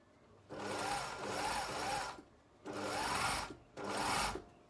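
A sewing machine stitches gathered fabric in three close bursts, a fast whirring rattle that starts and stops with short pauses between runs, no talk over it.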